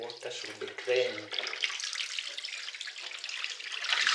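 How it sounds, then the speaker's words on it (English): Water drains out of a washing machine with a steady, close splashing rush that runs under a brief stretch of speech at the start. "All the water should be drained."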